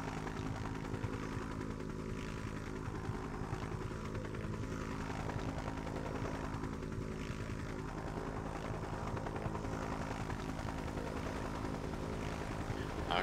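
A helicopter flying in Just Cause 3 on Xbox One gives a steady, fairly quiet engine drone with a constant rotor hum that holds unbroken throughout.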